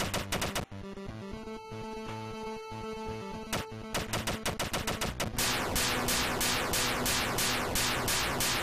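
Rapid video game gunfire from an Android fangame: dense, loud strings of synthetic shots and bursts that run almost without a break, ending in a harsher continuous volley.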